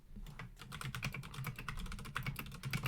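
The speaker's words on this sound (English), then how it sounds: "There's going to just be a lot of typing in this episode" Fast typing on a computer keyboard, a close and busy stream of key clicks with a few heavier strokes mixed in. No voices are heard.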